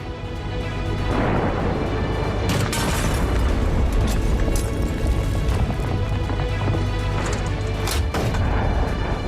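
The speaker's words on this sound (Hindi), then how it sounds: "आईडीएफ के फाइटर जेट ने इसे स्कैन करके बम धमाके से तबाह कर दिया" A loud, heavy blast from a fighter jet's bomb in an air strike gives way to a sustained roaring rumble, with a few sharp bursts breaking through the dense noise.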